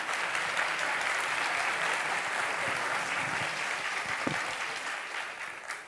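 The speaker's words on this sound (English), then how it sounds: "a round of applause, please" An audience at a policy dialogue on inequality claps to welcome a finance minister, steady dense applause from a room-sized crowd that fades slightly toward the end.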